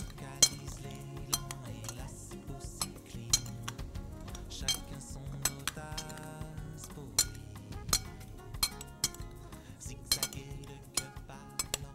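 Chicken skewer ingredients are mixed in a bowl in a kitchen, with a steady run of metal utensils clinking and scraping against the dish. The sharp taps are fairly quiet and close, with no talking.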